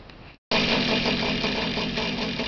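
A small pull-start gasoline engine, freshly primed with clean gas after many pulls, catches after a brief pause and settles into a loud, steady, close running drone with a rough, knocking pulse throughout.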